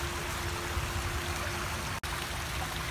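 Water fountain splashing in a temple courtyard at a large Buddha image shrine, a steady rushing trickle of water with one brief break in the sound, no talk.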